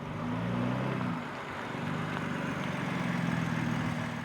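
A 2020 BMW X4 M Competition's 3-liter inline six sports exhaust idles with a deep, steady rumble, swelling briefly in a couple of low revs, close by with no talking.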